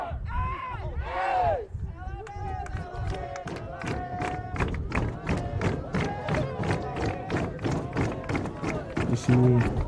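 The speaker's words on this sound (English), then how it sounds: "You see crowd starting to get into this game, trying to urge on their Lenoir-Rhyne Bears as it's a home match" Home crowd at a college men's soccer match between Lenoir-Rhyne and Wingate, voices swelling and cheering in rhythmic bursts with scattered claps, under a commentator talking over it.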